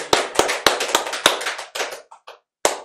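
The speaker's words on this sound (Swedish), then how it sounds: "Jag tycker det är värt en liten applåd, eller hur?" Two stream hosts give a small round of applause: a handful of sharp, close hand claps in an irregular rhythm, tapering off with a couple of softer claps and a final clap after a short pause.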